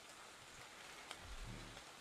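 Rain falling in the video game ARK: Survival Evolved, a steady soft hiss of rainfall with a low rumble swelling briefly, faint and continuous without speech.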